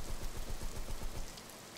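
Dense video game rain pattering on a surface, a constant close wash of drops with slight rhythmic thumps underneath, no talking.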